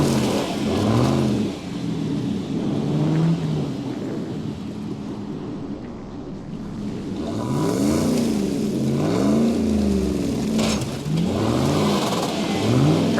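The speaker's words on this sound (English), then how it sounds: "The Jeep is pulling with the winch." A Jeep engine revs and strains under load while pulling on a winch rope, the loud, wavering growl rising and falling in repeated surges close by, with no talk.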